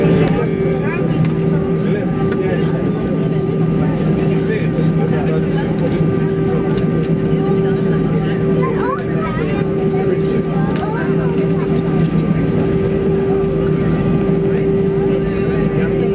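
Cabin of an Aegean Airlines Airbus A320 at Athens Airport as it readies for takeoff, a steady loud engine drone with sustained tonal hums filling the clip, with speech over it.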